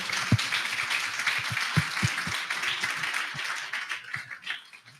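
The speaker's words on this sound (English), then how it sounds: "I would like to have everybody give a big round of applause to Mark and Aaron." A crowd applauding steadily, dense clapping with a few sharper claps standing out, sustained for several seconds before tapering slightly.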